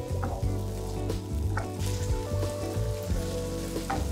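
Spice paste and sautéed aromatics, thinned with blender rinse water, sizzle and fry steadily in a pan for a Malay spiced black beef dish, with a continuous close crackle and occasional stirring scrapes.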